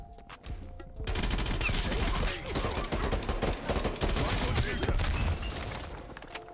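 Vargo 52 assault rifle from the video game Call of Duty Cold War firing in long rapid automatic bursts, loud and close, filling most of the stretch after a brief lead-in.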